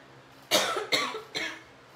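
Three sharp coughs in quick succession, close by and fairly loud, with short pauses between them.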